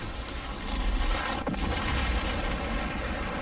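A self-destruct explosion from the Fallout games, a dense, roaring boom that swells and sustains as a broad rumble for several seconds.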